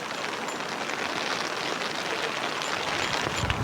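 Heavy rain pours steadily onto a rice paddy field during planting, a dense, continuous hiss close by with no voices.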